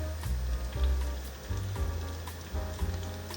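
Taro and dried tofu fry in hot oil, giving a busy, even sizzle and crackle with a few soft low thumps of the pieces being moved, close and fairly loud.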